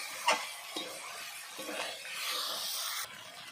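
Raw jackfruit and chicken masala stir-fried in a pan, with a sharp utensil scrape near the start and a few more stirring clanks over a steady sizzle and hiss, heard up close with no talking.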